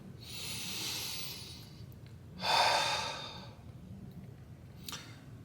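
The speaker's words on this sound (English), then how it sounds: "just take a deep breath with me right now." A single deep breath drawn in and let out close by, with a soft inhale followed by a longer, louder exhale over a quiet room hum.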